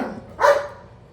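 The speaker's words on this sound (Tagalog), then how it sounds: "Maingay yung aso namin." A single short dog bark rings out at mid-distance in a household during a hot day, briefly rising over a quiet room background.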